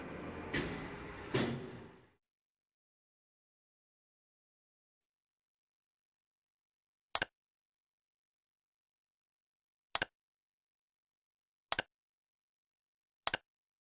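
A Java dungeon crawler game plays short lift sound effects, four sharp clicks spaced a few seconds apart after a brief burst of game noise, with silence in between.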